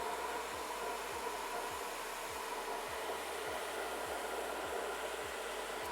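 A hair dryer blows steadily close by with its airflow aimed downward while drying the ends of the hair, a constant loud whoosh with a faint low pulsing underneath and no voices.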